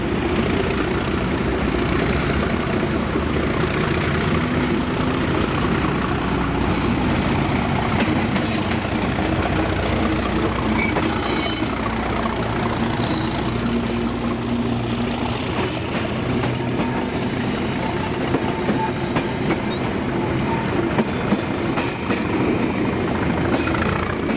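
A train pulls away from a station in Scotland in the evening, its steady diesel rumble and drone growing and fading over about twenty-four seconds at moderate distance, with no talk.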